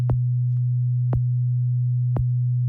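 Steady sine-wave sub bass droning throughout a mix, punctuated by three evenly spaced, punchy kick drum hits that clash with the low tone, with no voices.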